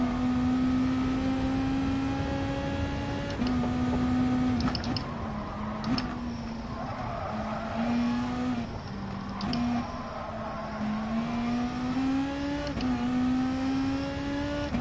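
A Volkswagen Beetle engine in a racing video game drones steadily through the whole stretch, with its pitch rising and falling as the car accelerates and shifts. The sound is continuous and close, with no voices over it.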